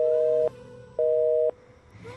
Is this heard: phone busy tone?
yes